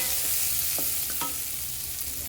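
A frying mixture seasoned with pepper powder, soy sauce and Schezwan sauce is stirred in a pan. A steady sizzle runs throughout, with a few brief scraping strokes of the spoon, and no voices are present.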